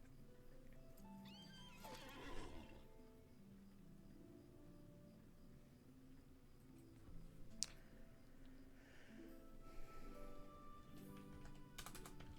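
A horse summoned in a Middle-earth video game whinnies and neighs, followed by clip-clop hoofbeats, with computer keyboard typing and clicking in the background, at low volume.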